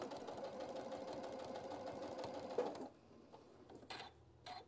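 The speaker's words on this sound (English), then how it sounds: "So I'm sewing to that line." A sewing machine runs steadily through fabric for nearly three seconds, a quiet, even mechanical hum that stops abruptly, followed by faint scattered clicks.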